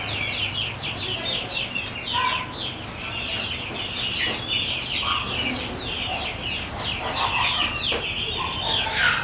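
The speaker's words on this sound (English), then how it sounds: "pardon the stupid chickens over here" Chickens cluck continuously in the background of a workshop where a pinball machine driver board is being repaired, with steady overlapping bright clucks and squawks at moderate volume, close by, with no talk over them.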